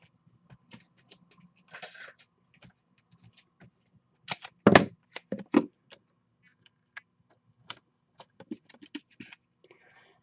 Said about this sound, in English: I'm just going to put 2 strips on, a little bit spaced apart